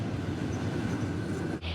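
An electric commuter train rolls through Abkhazia, heard from inside as a continuous low rumble and rattle of the carriage, with a short dip near the end.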